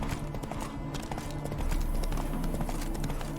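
Horse hooves clip-clopping steadily in The Witcher 3: Wild Hunt, a rapid continuous rhythm over game ambience and a low rumble, moderately loud and close.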